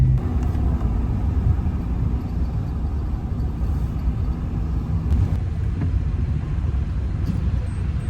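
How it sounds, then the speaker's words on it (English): A truck tows a trailer down the road, its engine giving a steady, continuous low rumble with constant road noise and no voices. "The truck is moving, man."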